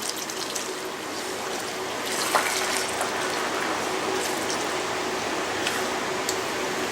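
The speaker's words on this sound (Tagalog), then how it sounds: "Ilalagyan ko siya ng water." Water pours steadily into a pan while cooking fried lapu-lapu in sweet chili sauce, a continuous close gushing fill lasting several seconds with no talk over it.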